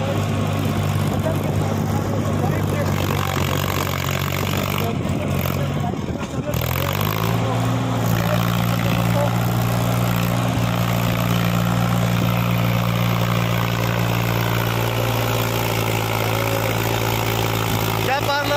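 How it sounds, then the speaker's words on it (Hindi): A Mahindra 265 DI small tractor engine runs steadily under load, its low drone dipping briefly then settling into a stronger, sustained hum with background noise. "कितना बढ़िया पावर लगा रहा है छोटा ट्रैक्टर देखो"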